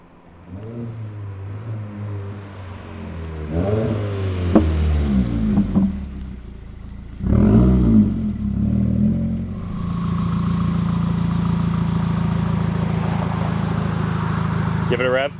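2015 Subaru WRX fitted with a Grimmspeed J-pipe idling, then revved up and down a couple of times before settling into a steady, raised drone, with people talking over it.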